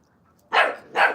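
A puppy gives two quick, sharp barks close by, one right after the other, with nothing else heard.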